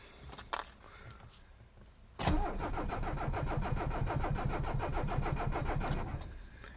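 A cold Mercedes 300CD diesel engine cranks on the starter: a brief click near the start, then a steady, loud, rhythmic churning from about two seconds onward that runs to the end without catching.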